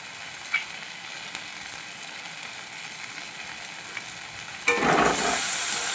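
Turmeric and Kashmiri chili paste with ground coriander and ginger frying in oil: a steady close sizzle with a few stirring taps, then a sudden louder hissing burst near the end as the pan flares. No voices.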